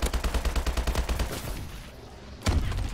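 Rapid automatic gunfire from the Call of Duty Advanced Warfare video game rattles off in quick bursts, then, after a brief lull, a single loud, booming grenade blast erupts close by.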